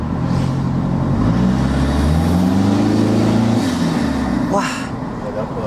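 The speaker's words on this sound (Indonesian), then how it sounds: "Dengerin nih guys suaranya guys." A diesel car engine with turbo boost revs loudly and climbs in pitch, then eases off with a brief whoosh, heard from inside the car while people talk over it.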